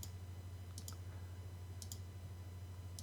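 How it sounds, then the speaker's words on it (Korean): Mouse clicks on a computer while modeling fillets and chamfers in Inventor 3D software: a few sharp, faint clicks in pairs spaced about a second apart over a steady low electrical hum. "자, 클릭해 주면 되겠죠."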